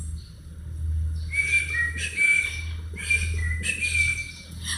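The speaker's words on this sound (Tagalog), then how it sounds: "Pasipol-sipol habang patakbo-takbo" A child whistles in short bright tuneful bursts while running about, with a steady low hum underneath.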